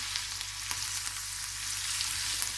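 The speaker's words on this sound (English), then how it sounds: "I'm really lightly frying the peppers and the ginger" Steady, close sizzling of peppers and ginger lightly frying in a pan, a continuous hiss with small crackles throughout and no talking.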